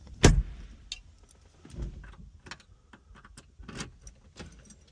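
A car with air suspension is started with a key: keys jangle sharply at the start, then scattered clicks, thumps and a mechanical whir follow as the system starts up and the compressor begins to run, with no talking.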